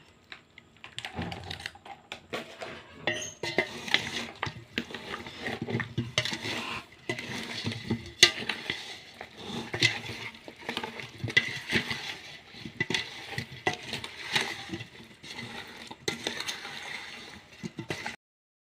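Moong dal flour mango pickle is stirred together with oil, producing a busy run of close, uneven clicking and tapping that carries on with little pause throughout.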